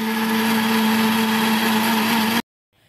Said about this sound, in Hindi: अब हमने तमाम इन्ग्रीडियंट्स शामिल कर दिए अपने ब्लेंडर मशीन में अब हम इन तमाम चीज़ों को ब्लेंड कर